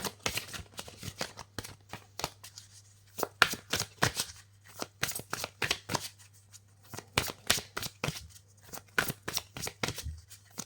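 Oracle cards for a tarot-style reading are shuffled by hand in quick irregular bursts of crisp riffling and slapping, close and clear over a faint low hum, with no talk.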